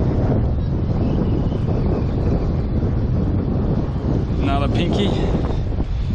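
Strong wind buffets the microphone during an outdoor fishing session, a loud, continuous low rumble that fills the whole clip while someone speaks briefly over it.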